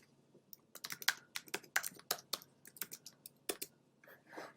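Fingers typing a web address on a computer keyboard, a close, clear run of quick uneven key clicks with brief pauses, ending in a softer flurry.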